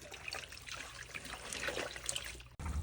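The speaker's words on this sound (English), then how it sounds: "We're gonna rinse it out really, really well." Beef tripe for menudo is rinsed under running water, a close, steady splashing trickle that breaks off briefly near the end before resuming.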